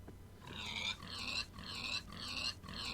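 Pigs oinking in a farming video game, a run of five or six squealing grunts in a steady rhythm, fairly faint and heard without talk.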